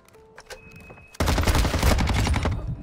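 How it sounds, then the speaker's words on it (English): Gunfire in the video game Modern Warfare 2 starts after a quiet moment with a few light clicks, then erupts into a loud, dense burst of rapid automatic shots that continues to the end. "Shots are falling."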